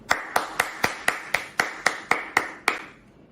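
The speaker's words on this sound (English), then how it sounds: "I would like to give a round of applause to my batchmates, Arjun Ketan, Rachel Wong, Samantha Yo, and Sruta Kirti." A single person claps about eleven times at an even, unhurried pace at a school graduation-day event, each clap crisp and close, then stops.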